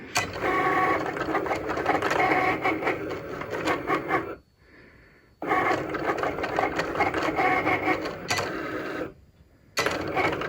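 A Cricut cutting machine runs after being started, whirring and clicking loudly and steadily up close in long stretches, with two short quiet pauses between passes; no voices.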